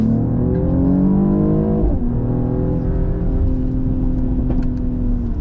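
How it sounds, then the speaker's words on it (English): A 2023 Mercedes GLE 53 AMG's inline-six revs hard under acceleration in sport mode, a loud rising engine note that drops at a gear change and climbs again, with a few small pops near the end. "And then of course with that inline-six power plant, sport mode, put my foot down."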